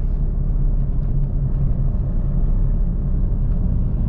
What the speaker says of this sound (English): let's rev the car a little